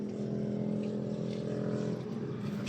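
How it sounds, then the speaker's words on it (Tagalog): Air compressor of a fully automatic carwash vending machine running steadily, a loud continuous motor hum with a strong low tonal drone throughout. "Yan po ang kanyang air compressor."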